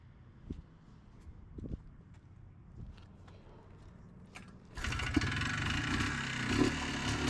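A rare three-wheeler sits quiet with a few faint knocks and shuffles before its engine catches partway through, then settles into a steady, close idle that carries on to the end.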